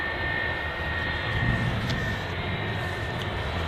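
A British Airways shuttle airliner taxis at Manchester Airport, a steady broad engine roar with a faint high whine, heard from a spotting position without talk.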